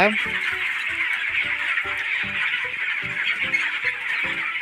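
Chickens on a broiler chicken farm cluck in short, repeated bursts, close and fairly loud, with a person speaking alongside them.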